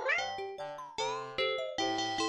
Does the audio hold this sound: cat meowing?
yes